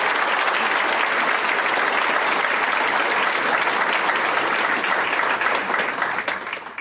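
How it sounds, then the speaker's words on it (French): A church congregation at a Bible study meeting breaks into loud, sustained applause for a sister, with dense clapping that fades slightly at the end. "Un applaudissement pour notre sœur."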